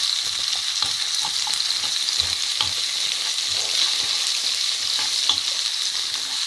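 Chopped onion and chilli fry for chilli paneer over low to medium heat, giving a dense, steady sizzle with faint scattered crackles, close and continuous, no talking.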